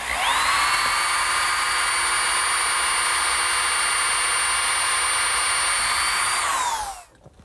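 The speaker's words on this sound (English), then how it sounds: "I'm going to have to pre-drill some holes through the bracket for the nails." A power drill bores holes through a swing bracket with a loud, steady high whine for about seven seconds that winds down at the end, with no talking.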